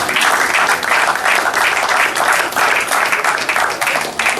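A crowd applauds loudly and continuously at a gathering, a dense wash of many clapping hands that swells and eases in waves and carries on alone, with no voice over it.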